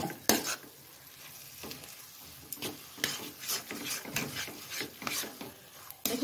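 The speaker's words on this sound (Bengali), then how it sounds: "এখন আমি এটা ভালো করে নেড়ে দেব।" A spoon scrapes and stirs mashed cauliflower bhorta with a spoonful of ghee in a pan, making repeated rasping strokes with a faint sizzle underneath, close and fairly quiet, with no talking.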